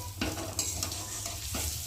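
Rice grains frying and being stirred in a pan for basanti pulao, a steady sizzle with a few scraping stirs of the spoon, close and alone with no talk.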